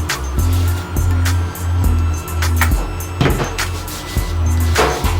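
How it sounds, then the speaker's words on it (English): A laundry machine runs in the background with a loud, steady low rumble and a regular churning pulse of thumps, with faint higher clatter over the top. "Please excuse the noise in the background. Someone's doing laundry."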